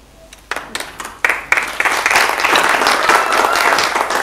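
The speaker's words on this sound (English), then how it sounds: "Please, another round of applause." Audience applause at a transitional justice policy symposium panel, rising from scattered early claps into sustained, fairly loud clapping from a crowd that fills the room.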